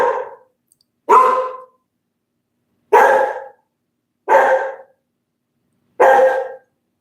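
A dog barks five times in single loud, close woofs, with uneven gaps of about one to two seconds between them and silence in between.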